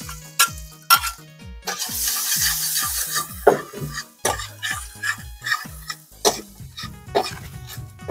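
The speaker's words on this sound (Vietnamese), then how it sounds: "Dầu bây giờ nó cũng nóng rồi, em cho cái phần tỏi băm vô." Minced garlic sizzles in hot oil in a pan outdoors in a field, with repeated sharp clinks and scrapes of a utensil stirring at an uneven rhythm over a soft frying hiss; no one speaks.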